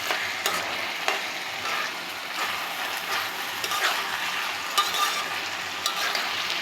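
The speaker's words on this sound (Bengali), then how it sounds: "দেখতেই পাচ্ছেন আমি এটা ভালোভাবে ভাজা ভাজা করে নিচ্ছি।" Food frying in a pan, with a steady sizzle broken by scraping stirs and sharp utensil knocks, heard up close and alone.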